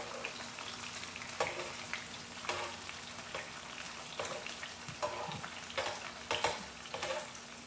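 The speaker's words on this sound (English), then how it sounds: "So just mix it up and you will just lightly fry it." Paneer shallow frying in a pan of oil for honey garlic paneer, a continuous crackling sizzle with repeated louder bursts as the pieces are stirred and turned, close and unaccompanied by voices.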